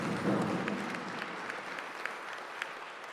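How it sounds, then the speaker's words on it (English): An audience at a First Nations University of Canada president's installation applauds a grand entry delegation, with even, moderately distant clapping and a few louder individual claps, plus a brief low murmur near the start. "Let's give them one big round of applause."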